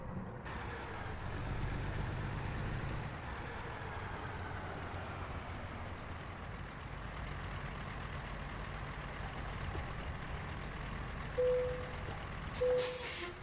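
Heavy truck engine rumbling steadily at low speed as the rig pulls up to a drop-off in American Truck Simulator, with a brief air-brake hiss near the end.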